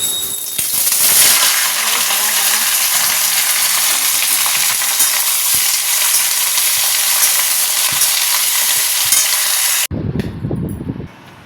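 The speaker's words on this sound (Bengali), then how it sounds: "কড়াই দিয়ে দিয়েছি তেল আর কালো জিরে, এই যে কুদরি ভাজবো বলে" Hot oil with black cumin seeds sizzles loudly and steadily in a wok, ready for frying ivy gourd, with faint stirring clatter throughout before the frying noise cuts off abruptly near the end.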